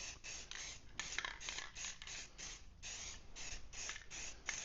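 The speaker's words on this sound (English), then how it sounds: "So we'll give it a shot of paint. I'll give it about 2 coats." Paint is sprayed in light coats onto a part of a powder coating oven build. Short hissing bursts repeat in a steady rhythm, close and fairly soft.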